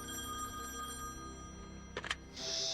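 An old-style telephone bell rings faintly in The Wolf Among Us, a soft trill under quiet room tone, followed by a couple of brief clicks and a louder electronic tone at the end.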